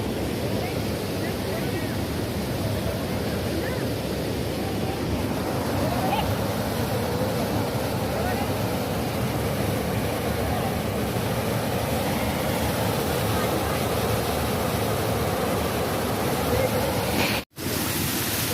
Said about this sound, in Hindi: तो यहाँ देखिए ये वाटरफॉल है